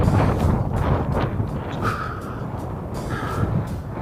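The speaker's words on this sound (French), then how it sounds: "Là il y a du vent" Steady wind buffeting the microphone in low gusty rumbles on a mountain trail, with a faint tonal whistle drifting through now and then.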